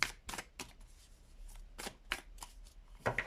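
Tarot cards are shuffled by hand in a close, quiet series of crisp riffling bursts with brief gaps between them.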